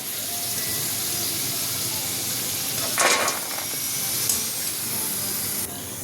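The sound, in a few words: corn frying in hot oil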